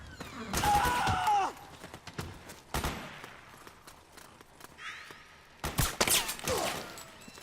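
Gunfire crackles in the Metal Gear Solid 4 video game: scattered bursts and single shots ring out amid battlefield noise, with loud volleys near the start and end and quieter ambience between.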